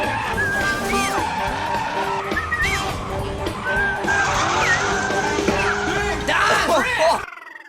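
A stock Lexus SC400 drifts with tires skidding and squealing in rising, wavering tones over a steady engine roar, loud and close, then cutting off abruptly near the end.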